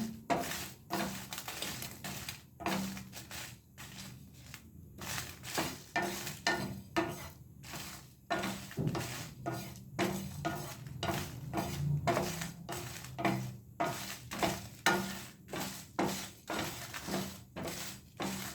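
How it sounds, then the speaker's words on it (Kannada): Masala being dry-roasted in a pan for a prawn curry, with rhythmic scraping and clinking of a spoon against the pan over a faint sizzle, close and steady throughout, with no talking. "ಚೆನ್ನಾಗಿ ಹುರ್ಕೊಳ್ಬೇಕು ಮಸಾಲೆ"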